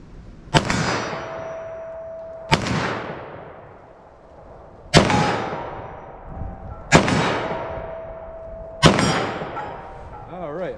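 Five loud gunshots from a .357 Magnum revolver with a 2-inch barrel, fired outdoors at a steady spacing of about two seconds, each with a sharp crack and a long ringing decay.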